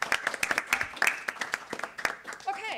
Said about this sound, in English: Can we also give them a clap?